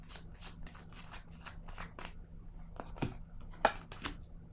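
Tarot cards drawn from a deck and laid down on a table, a run of soft papery flicks and slaps with a sharper snap near the end, close and fairly quiet, with no talking.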